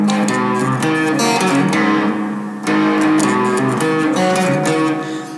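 An electric guitar plays a blues lick with hammer-ons on the fourth string, giving sustained, slightly overdriven chords and notes in two phrases with no talk.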